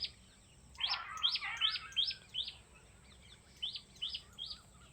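Small birds chirp outdoors in a village yard, a series of short, bright, repeated tweets in quick bursts, moderately near over a quiet low rumble of background.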